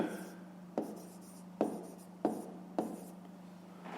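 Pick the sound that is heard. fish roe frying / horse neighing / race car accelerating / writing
writing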